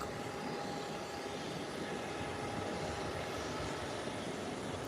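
A JetBlue airliner taxiing from the runway toward its parking gate, a steady, fairly faint broadband engine roar with a thin whine, heard at a distance without voices.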